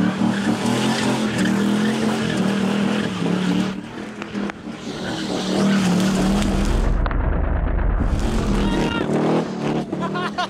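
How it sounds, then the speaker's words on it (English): A car doing burnouts at a car meetup roars continuously with revving engine and squealing, skidding tires, loud and sustained, with a brief gap and then renewed screeching as the engine keeps running hard. "He backs away from a car doing burnouts"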